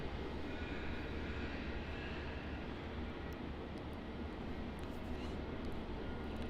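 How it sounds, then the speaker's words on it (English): A Jetstar Airbus A321neo passes over an airport terminal, heard as a steady, broad jet engine roar that stays fairly even and moderately distant throughout. "our next arrival is going to be the second Jetstar A321neo, which is just flying over the terminal now"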